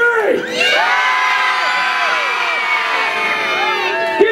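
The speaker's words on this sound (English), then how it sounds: "scream as loud as you can" A castle crowd, many of them children, screams and whoops at full volume on cue, a sustained loud roar of overlapping high voices lasting several seconds.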